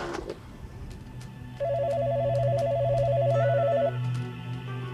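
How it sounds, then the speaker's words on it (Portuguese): A telephone rings in a museum, a steady electronic warble starting midway and holding for about two seconds over a low hum and background clatter. "o telefone toca frequentemente com notícias sobre descobertas"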